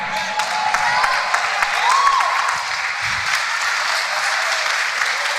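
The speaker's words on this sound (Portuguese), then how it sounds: "Forte esse aplauso, a palavra." Sustained applause from a church congregation, a dense, even roar of many hands clapping that holds steady throughout, with faint voices and a brief whistle-like tone mixed in.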